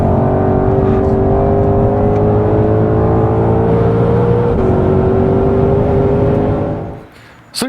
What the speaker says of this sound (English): So yes, that was the Shelby Gt500.